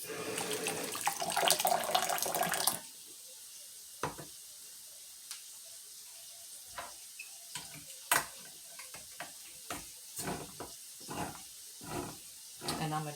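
A kitchen tap runs in a steady loud rush while an empty can is rinsed, then the flow cuts off, leaving scattered soft clinks and knocks of the can in the sink.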